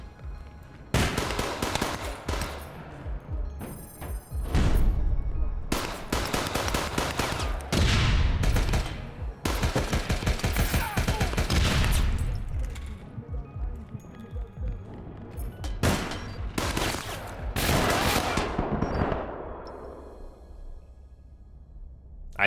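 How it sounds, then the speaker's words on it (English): Gunfire in a video game, including hip-fired sniper rifle shots: bursts of loud, dense shooting come in several clusters with short gaps, fading into a decaying tail near the end. "I just did a hip fire with that sniper rifle."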